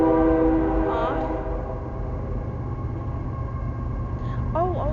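A train rumbles past outdoors while its horn sounds in long sustained tones, loud at first and fading, then sliding notes return near the end over the steady rail noise.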